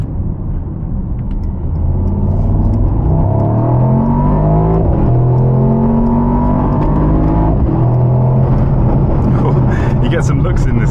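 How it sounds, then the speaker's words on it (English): Mercedes-AMG SL V8 pulling hard on the road, a loud steady engine roar with rising tones as it accelerates through gears, heard from inside the car. "that sound of that V8 just tells me how we need to keep V8s in AMGs"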